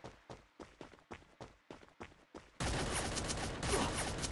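Gunfire in the mobile battle royale game Free Fire Battleground: a run of quiet, evenly spaced thuds, then a sudden, sustained burst of dense, noisy shooting.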